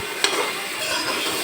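Lentils, fox nuts and cashews are stirred and dry-roasted together in a pan, giving a steady close rustling hiss with a sharp scrape near the start.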